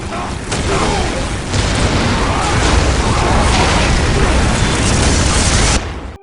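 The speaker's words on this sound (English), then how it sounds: "Orbital control. Lock onto this beacon and fire. Full power." Huge orbital bombardment blast in Warhammer 40K Dawn of War Dark Crusade, a loud sustained roaring explosion with deep rumble filling the whole stretch, swelling in bursts before cutting off abruptly near the end.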